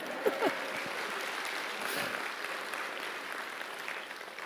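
A church congregation applauds in a sanctuary, a steady, dense crowd of clapping that carries on evenly and fades a little toward the end.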